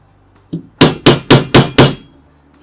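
A hammer strikes a nail to score metal track in a steady series: one light tap followed by five loud, evenly spaced blows, close up.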